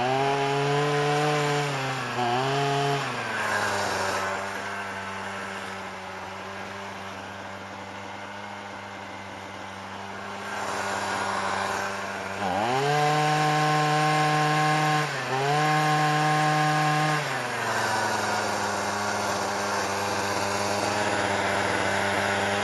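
A 40V electric trimmer fitted with a long pole saw attachment cuts through wood, its motor whine rising and dipping steadily as it bogs under load and then frees up again. The sound is continuous and close, with no talking.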